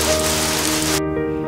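Heavy rain pours in a dense, steady hiss over a soft musical backdrop during a retelling of the Qingming festival legend, then cuts off abruptly after about a second, leaving only the music.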